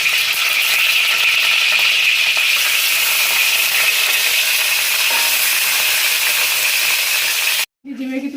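Paneer with onion and capsicum fries in a pan for chilli paneer, a loud steady sizzle that runs continuously, then cuts off abruptly near the end before a brief clatter.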